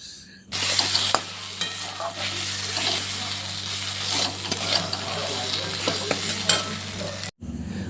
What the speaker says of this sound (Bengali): এরপর ভালো করে মশলাটাও কষে নিচ্ছি একটু